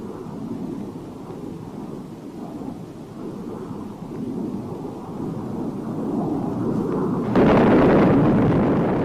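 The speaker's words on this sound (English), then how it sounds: "Shown here is the delivery of a partial load composed of 13 750-pound demolition bombs." Bombs dropped by an F-110 fighter-bomber detonate as a partial load of thirteen 750-pound demolition bombs, heard as a deep, continuous rolling rumble that builds and then swells sharply near the end, distant yet heavy, with no voices.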